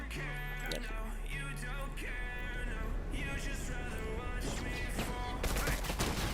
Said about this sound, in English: Bullets flying by each other's faces.